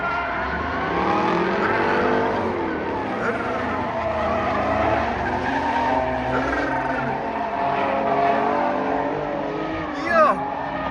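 A straight-piped Pontiac G8 GT drifts at a legal slide event, its loud raspy exhaust roaring continuously with squealing tires, while an excited voice talks over the din and a brief sharper burst lands near the end.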